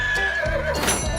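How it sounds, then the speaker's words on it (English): A horse in the game Red Dead Redemption gives a loud, close whinny with a rising and falling pitch, alone and without talk, over a low background rumble. "Found Andrew's horse."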